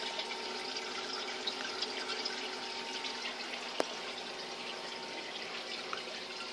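Steady rushing and trickling water from a homemade mechanical filter in a fish tank runs continuously, with a brief click partway through and no talking.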